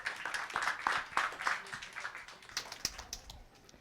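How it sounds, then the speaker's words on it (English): Scattered clapping from a science café audience greets a speaker: a moderate patter of hands that gradually thins out over a few seconds, with no talking. "So please give a big round of applause"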